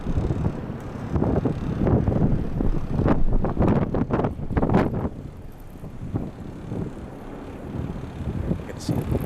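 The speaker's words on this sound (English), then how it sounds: "We have Atlas racing down the runway." An Atlas Boeing 747 taking off, a loud roaring rumble of jet engines mixed with wind buffeting on the microphone, heavy at first and then fading a little, with someone talking over it.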